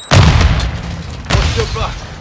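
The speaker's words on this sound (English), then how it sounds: "Throw a grenade!" A grenade detonates in Call of Duty: Modern Warfare, a loud close boom followed by a second heavy blast and rumbling gunfire, with a voice briefly audible underneath.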